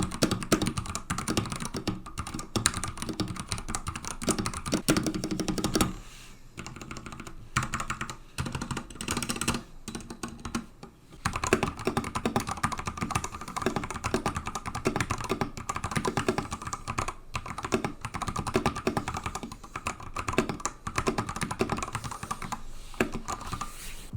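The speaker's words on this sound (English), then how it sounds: "Here's a little sound test of my keyboard." Typing on a Ducky One 3 TKL hot-swap mechanical keyboard with Cherry switches, a dense, continuous stream of close, crisp keystroke clicks and clacks lasting throughout, with a brief lull partway through and no voices.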